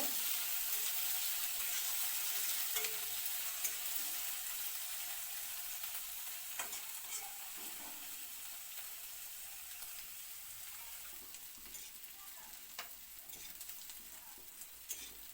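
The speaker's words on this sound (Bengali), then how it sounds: "পেঁয়াজটা খুব ভালো করে লাল লাল করে ভাজা করা হইতেছে" Onions browning in oil in a kadai for a Bengali jute-leaf recipe: a continuous crackling sizzle with occasional scraping stirs and light clinks, near and unbroken, no voices.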